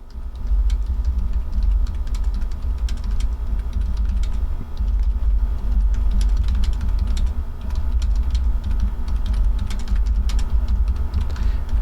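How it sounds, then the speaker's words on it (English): Typing on a computer keyboard in a home studio: continuous, fairly close clacking keystrokes in irregular bursts over a low background hum, with no talk. "if you hear this thing clunking around when I'm typing, I'm sorry about that"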